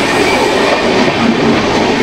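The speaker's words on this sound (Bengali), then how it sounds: "একের পর এক কিন্তু ট্রেন আপনাদের সাথে দেখা হবে, আর এই ট্রেন ক্রসিং হেভি লাগে," Train crossing on the Vizag to Araku rail route: a loud, steady rumble of rolling wagons with faint clickety-clack, continuous and close throughout, with no talking.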